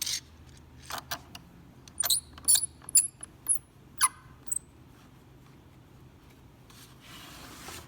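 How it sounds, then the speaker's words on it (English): A clamp is fitted to a guitar side held on a bending form, with scattered close rubs, taps and thin squeaks of wood and metal, followed by quiet stretches. "Maybe one more clamp on this will do it well for us."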